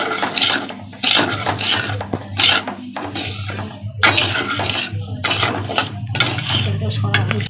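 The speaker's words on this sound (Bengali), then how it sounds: "এই যে ঘি দিয়ে এটা ভাজা হচ্ছে" A metal spatula scrapes and stirs semolina frying in ghee in a pan, with repeated clinks and scraping strokes, a soft sizzle underneath and a voice talking over it.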